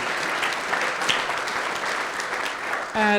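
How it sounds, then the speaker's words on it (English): Dense applause from a farming speaker panel audience, continuous and loud for about three seconds, with a few louder claps standing out before it cuts off and a voice begins. "And a round of applause for Ashley."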